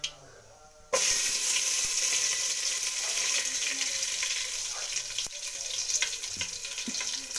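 Curry leaves and garlic dropped into hot oil with mustard seeds in a pot, a sudden loud sizzle that starts after a quiet moment and keeps crackling steadily, with faint stirring.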